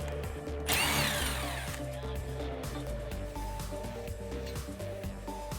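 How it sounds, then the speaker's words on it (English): Power tool whirring as a 12mm socket removes the emergency brake line bracket at the rear of a Toyota Tacoma, with a brief louder burst of spinning near the start, then steady mechanical running and clatter close by. "we're gonna start by using a 12mm socket to remove this emergency brake line bracket"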